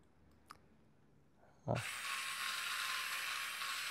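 A cordless electric screwdriver drill unrivets a Hot Wheels die-cast car: after a near-silent pause with a faint click, the motor starts abruptly and runs in a steady, moderately loud whirring buzz.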